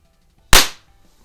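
A Beeman P3 single-stroke pneumatic air pistol fires a pellet with one sharp, loud crack close by that fades within a fraction of a second.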